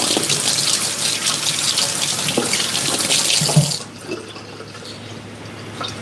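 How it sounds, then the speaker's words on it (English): Running tap water splashes into a sink while hands are washed, a loud close hiss that stops abruptly near four seconds, leaving quiet drips and faint handling sounds. "Washing my hands."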